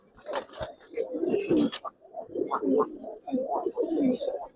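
Giribaz pigeons coo in a loft, a run of low throaty coos mixed with wing and body noise, fairly close and steady, with a voice briefly heard among them.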